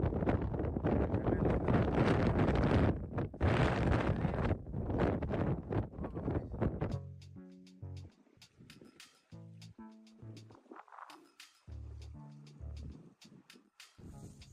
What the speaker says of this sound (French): le problème du vent nous complique un peu